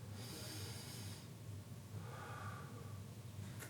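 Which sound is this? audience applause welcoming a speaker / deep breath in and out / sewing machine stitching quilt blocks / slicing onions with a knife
deep breath in and out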